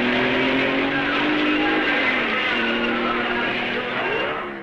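A 1950s racing car, number 24, pulls away during the 1955 race at Spa. Its engine roars loud and close, with the pitch rising and then dipping as it gets going, over heavy background noise.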